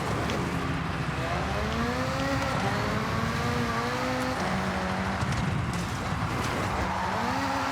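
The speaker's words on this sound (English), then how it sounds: "Bit of a handbrake to get us around" A game car in Forza Horizon 6 whips through a handbrake turn, its engine whining and shifting pitch in rising sweeps while tires squeal and skid, loud and continuous.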